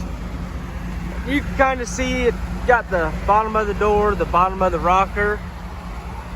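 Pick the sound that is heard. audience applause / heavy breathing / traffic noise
traffic noise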